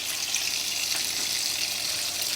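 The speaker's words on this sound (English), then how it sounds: "And there's your hot water pressure." Hot water rushing into a Whirlpool washing machine set for a heavy load of towels, a steady, fairly loud hiss of flowing water that stays constant throughout with no voices.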